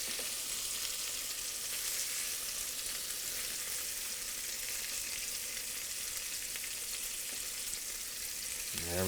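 Pieces of lingcod fry in a hot pan with a steady, even hiss of sizzling oil that holds throughout, close and fairly loud, with a brief clatter right at the end.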